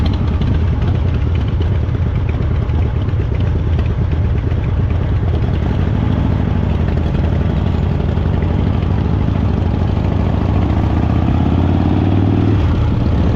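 A Harley Davidson Fatboy motorcycle engine idles with a constant, loud, low rumble, close and unbroken for the whole stretch, with no clear voices over it.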